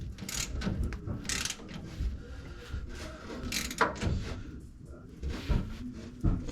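Ratchet wrench clicking in short, uneven bursts while tightening the bolts of an external transmission filter kit, a close mechanical rattle with some background clatter.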